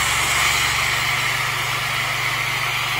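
A pressure washer runs steadily and loudly throughout, a constant close engine-and-pump drone with no talk, its note holding fairly even as the pressure knob is adjusted on the job.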